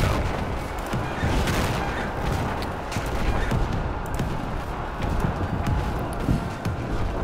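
Chaotic battle din in the Roblox game Centura, with booming explosions and rapid gunfire-like cracks layered over a dense, steady roar, loud and continuous throughout.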